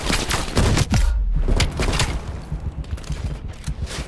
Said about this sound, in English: Ini shotgun kayaknya guys.